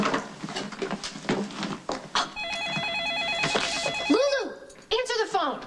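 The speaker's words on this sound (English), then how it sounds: "answer the phone" An office telephone rings with a repeated electronic trill, the warbling tones sounding clearly alongside people talking over it.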